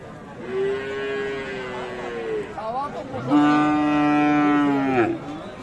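A cow moos twice at a cattle market, long deep low calls close by, the second louder and longer, with faint voices in the background.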